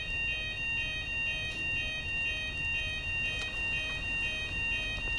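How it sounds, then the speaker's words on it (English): Fire alarm in the Telltale Batman video game ringing steadily, a sustained high electronic tone with faint game ambience beneath, no talk. "here comes the fire alarm"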